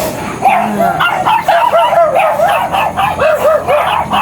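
Dogs bark and yip in a rapid, continuous chorus, with some whining mixed in, loud and close.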